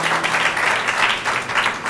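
Audience applause for performers at an Urdu Academy event in Jeddah, a steady dense wash of clapping filling the whole stretch at moderate loudness, with no voice over it.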